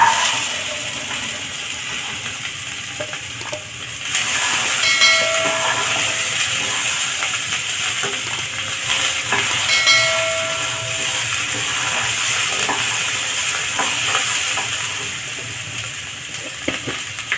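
Green peas being added to fried potatoes in a pan, with a loud, steady hiss of sizzling oil that swells as they go in and keeps going near and continuous, broken by occasional clinks.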